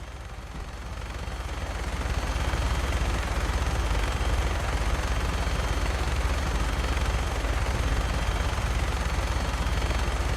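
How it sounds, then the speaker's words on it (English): Sustained gunfire from a helicopter in Fallout 4 plays as a dense, continuous roar of rapid shots over a low rotor rumble, loud and unbroken after a short build at the start. "Make sure you properly identify your targets before you start shooting."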